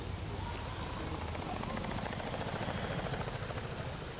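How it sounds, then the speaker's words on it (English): Army helicopters drone steadily overhead above Diyarbakir, a largely Kurdish town in southern Turkey, a continuous low rotor throb with no voices. "Army helicopters drone over Diyarbakir, a largely Kurdish town in southern Turkey."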